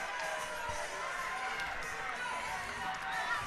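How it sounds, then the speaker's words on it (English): Stadium crowd at a women's rugby final at Yarrow Stadium, a steady broad roar of many voices holding loud and even throughout, with a commentator talking over it. "As the crowd noise starts to lift"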